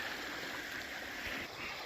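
A deep creek flows with a continuous, moderately loud rushing and gurgling, steady and close, with no voices.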